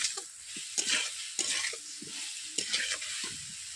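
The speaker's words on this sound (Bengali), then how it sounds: "হামালু সবগুলো উপকরণ দিয়ে আমি একসঙ্গে কষিয়ে নিচ্ছি" Yam curry with spices and a splash of water being stir-fried in a pan: a steady close sizzle broken by repeated scraping stirs about every second.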